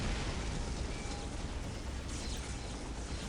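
Frag grenades going off in the strategy game Dawn of War: Dark Crusade, a steady, dense roar of blasts and rumble filling the whole stretch with no pause.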